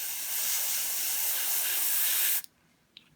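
Continuous airbrush hiss of grey Vallejo paint sprayed over a template, steady and close for about two seconds, then cutting off abruptly, followed by a couple of faint ticks.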